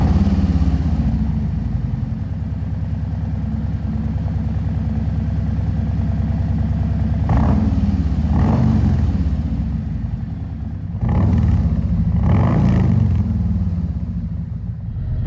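Harley-Davidson motorcycle fitted with Khrome Werks slip-on mufflers, running loud and close with a low, deep exhaust rumble at a steady idle, rising in two brief throttle blips near the end.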